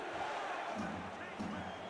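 A crowd at a night football game, Denver at San Diego, makes a steady, dense roar of many voices that swells slightly in places, with no pauses across the short stretch.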